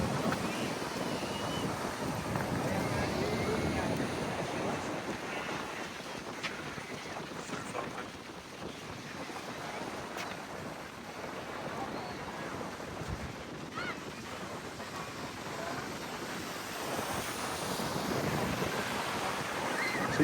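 Ocean surf at a surfing contest, a continuous wash of breaking waves from some distance with wind buffeting the microphone throughout.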